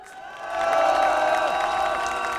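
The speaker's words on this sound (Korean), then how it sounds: "우리 고생해주신 우리 정당 대표님들께 다시 한번 큰 박수 부탁드리겠습니다" A crowd at an outdoor political rally near Seoul City Hall station applauds and cheers for party leaders, a loud, sustained wash of clapping and voices swelling after the first half-second and holding steady.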